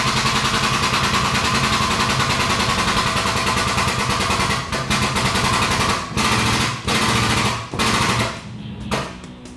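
Tube bending machine forming chopper frame tubing: a loud, fast mechanical rattle runs continuously near the mic, then breaks into several short bursts with brief pauses near the end.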